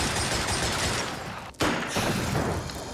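An alien ship's sub-reactor blows up in Xenonauts. A crackling, fusillade-like roar is cut by a brief gap and then a sharp loud burst that fades into more rattling debris.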